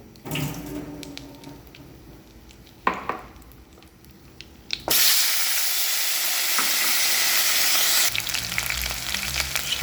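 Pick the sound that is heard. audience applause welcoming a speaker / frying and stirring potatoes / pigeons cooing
frying and stirring potatoes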